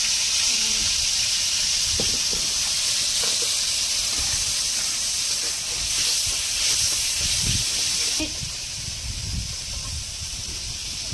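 Masala paste lands in a hot pan and sends up a loud, steady hiss of sizzling, with some clatter of the pan. The hiss drops a little in level toward the end.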